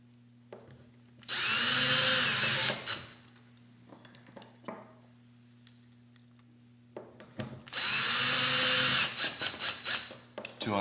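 A power drill drives screws into the handle of a Dupray Neat steam cleaner: two loud whirring bursts of a couple of seconds each, separated by quieter clicks and handling noises.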